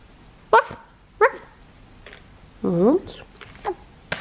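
A few short barks and yips scattered among quiet speech, with one longer whining, tonal dog-like sound in the middle.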